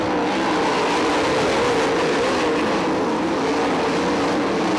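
Loud, steady engine roar from sprint cars racing on a dirt track at Crystal Motor Speedway, a continuous high-revving drone with no pauses.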